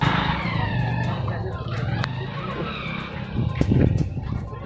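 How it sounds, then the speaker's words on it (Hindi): A vehicle stuck on a badly damaged road spins its wheels, with a steady engine roar and squealing, skidding tyres, while people talk nearby. "गाड़ी बुरी तरह फंस गई।"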